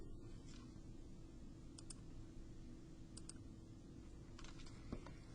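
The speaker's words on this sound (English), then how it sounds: "I'm using the keyboard" Someone types on a computer keyboard, producing faint, scattered clusters of quick key clicks with pauses between them over a quiet, steady room hiss.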